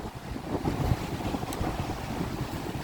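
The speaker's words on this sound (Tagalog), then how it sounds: "Saka napakalakas guys ng hangin. Ayan o." Strong wind roars steadily, buffeting the microphone with low rumbling gusts, and a faint rush like water or surf sits underneath.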